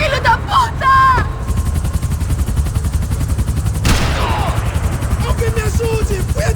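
Sustained rapid automatic gunfire from a Max Payne 3 firefight, loud and rhythmic with dense repeated bursts over a low rumbling engine or rotor drone, with shouted voices and a sharp crack near the middle.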